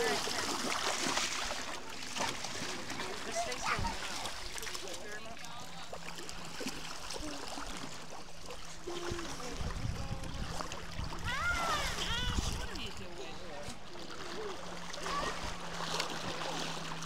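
A child splashes in lake water while swimming at Upper Saranac Lake, with broadband splashing and water sounds running steadily through the scene under frequent nearby talk.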